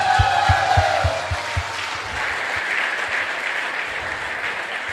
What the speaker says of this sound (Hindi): जोरदार ताली बजाएं उनके लिए।